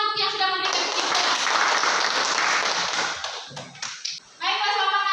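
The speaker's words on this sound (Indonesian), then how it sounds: "Tepuk tangan untuk yang sudah memberikan kesimpulan." Classroom of students breaks into a burst of applause for classmates who gave the lesson's conclusion, dense clapping for about four seconds before fading, with children's voices around it.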